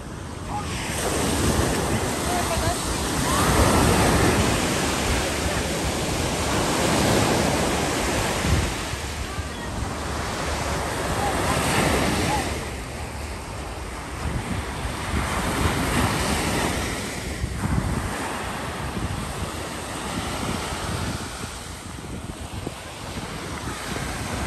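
Waves roll and break continuously on Stavros Beach in Greece, a full, steady surf roar with gusting wind buffeting the microphone throughout.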